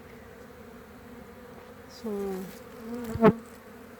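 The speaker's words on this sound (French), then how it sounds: "Voilà, là on voit déjà deux abeilles avec des pelotes." Honeybees at a hive entrance, some carrying pollen loads, make a faint background hum with a couple of brief louder buzzes as single bees fly close past, and a voice speaks briefly.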